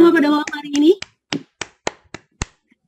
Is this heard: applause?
yes